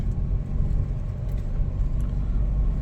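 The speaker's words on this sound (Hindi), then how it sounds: "गाड़ी बहुत ही आराम से चढ़ रही है। सेकंड गियर पे गाड़ी है" A Mahindra Scorpio Classic SUV climbs a steep mountain slope in second gear, its engine giving a low, steady rumbling drone from inside the cabin, with faint small rattles over it.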